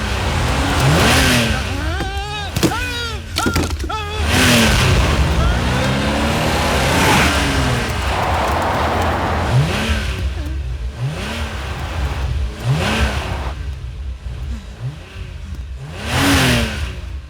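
A car engine revs and accelerates in a Tarzan movie scene, loud repeated rising and falling whines over about seventeen seconds, with voices and other scene sounds mixed in.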